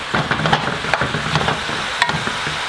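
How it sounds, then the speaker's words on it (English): Chili being stirred in a pot after pepper and sea salt go in, with scraping, clattering strokes over a steady sizzle, close and fairly loud with no talking. "Now, I'm gonna mix this all up."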